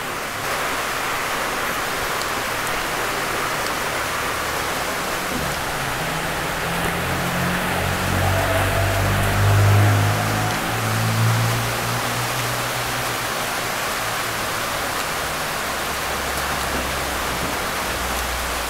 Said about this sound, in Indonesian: kalau teman-teman dengar suara klitik-klitik-klitik, di Madiun memang cuacanya lagi hujan siang ini